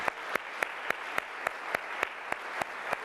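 Sparse, evenly spaced hand claps at a panel discussion on the Occupy movement, about one every quarter second, faint and fairly distant over a soft room hiss, with no voices.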